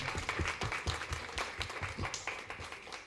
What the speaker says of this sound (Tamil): ஒரு மிகப்பெரிய கைத்தட்டல் கொடுத்துடலாம்.